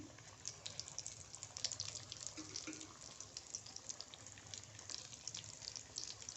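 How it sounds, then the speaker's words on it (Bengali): Egg chops fry in hot oil in a wok over a low flame, making a faint, continuous bubbling crackle with small popping spatters. "তেলের মধ্যে ডিমের চপগুলো আস্তে আস্তে দিয়ে দিচ্ছি"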